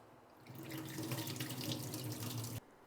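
A kitchen tap runs in a steady, fairly quiet stream while rice is rinsed for jeera rice, then cuts off abruptly near the end.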